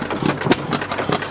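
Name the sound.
running engine over 110 years old at agricultural museum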